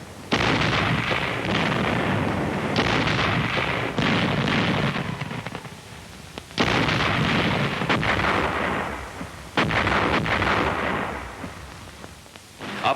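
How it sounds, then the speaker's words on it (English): An artillery barrage pounds a battlefield in a wartime documentary film, loud sustained rumbling bursts and crackling blasts rolling in long waves with short dips between them, with no talk. "the infantry watched the smoke and bursts of the barrage"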